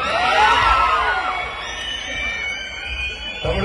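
A crowd at a film launch event cheers, screams and shouts loudly and continuously, with excited voices rising and falling throughout.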